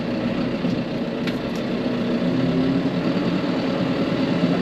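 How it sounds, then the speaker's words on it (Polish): A 2023 John Deere 5M tractor engine runs steadily at a low, even rumble, close and continuous, with no talking. "Silnik ciągnika mamy już uruchomiony, więc przejdziemy sobie do krótkiego przejazdu tym ciągnikiem."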